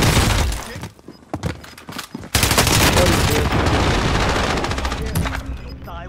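Loud, dense gunfire in a video game shootout, sustained bursts and rapid shots with a brief gap before an unbroken barrage that tails off slightly at the end.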